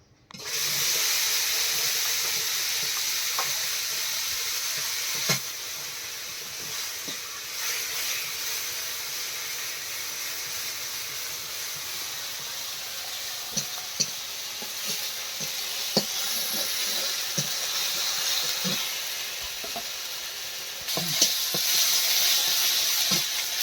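A ground paste of onion, garlic, ginger and dry red chilli fries in a kadai with a loud, continuous hiss. Occasional utensil clicks and scrapes sound close by, and no one speaks.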